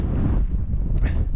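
Biting wind gusts on a winter summit in the Yorkshire Dales roar across the microphone in a loud, continuous low rumble, with no pause and no voices.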